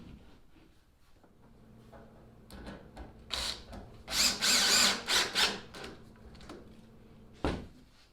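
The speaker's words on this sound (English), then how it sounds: "Just got to finish pre-drilling all these screws." Power drill pre-drilling screw holes in a plywood boat hull, a few short whirring bursts, the loudest cluster in the middle, close by and alone with faint workshop background between runs.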